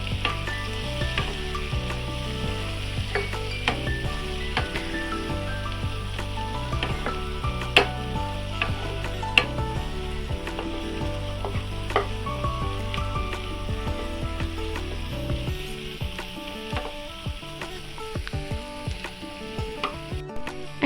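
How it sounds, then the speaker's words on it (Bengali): Fish egg masala with green chilies being stirred and fried in a pan, a steady sizzle running throughout with repeated scraping clicks from the spoon against the pan, close and alone without talk. "সাথে কাঁচা লঙ্কা, এগুলোকে ভালো করে নেড়ে চেড়ে নিতে হবে।"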